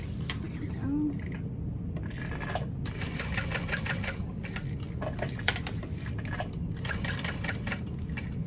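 A sewing machine runs in repeated bursts while sewing a box stitch on a bag, rapid mechanical whirring starting and stopping several times with short pauses between runs, close and clear.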